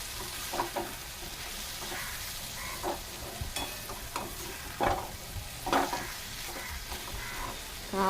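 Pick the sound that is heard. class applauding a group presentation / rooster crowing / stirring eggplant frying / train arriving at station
stirring eggplant frying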